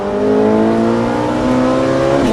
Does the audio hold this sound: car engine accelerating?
yes